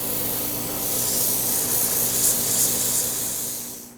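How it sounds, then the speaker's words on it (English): Steady, close hand sanding of a wood blank with 120-to-240 grit sandpaper, a continuous hissing rub with gentle swells and no talking, fading out at the end. "Now to reiterate, make sure you sand before you come to the bandsaw."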